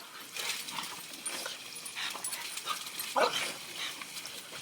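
A dog whimpering and giving a few short barks and yips, close by in a noisy room, with one louder bark-like burst late in the sequence.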